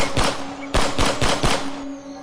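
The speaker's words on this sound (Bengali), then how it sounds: "ফাঁকা আওয়াজ করে তিন চারবার বন্দুক ছুড়লেন" Three or four loud, sharp gunshots fired into the air, spaced unevenly over about two seconds, each a hard crack with a short fading tail, close and unaccompanied by talk.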